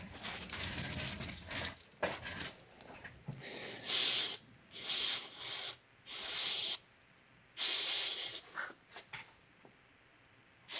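Aerosol cleaner blasts into the motor of an old Athearn Blue Box model locomotive in several short, loud hissing bursts separated by pauses, with faint handling noises between sprays.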